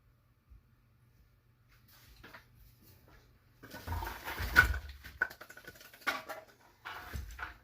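Someone shuts a door inside a home, landing as a dull, close thump amid shuffling and rustling after a few quiet seconds, followed by more scattered knocks and movement.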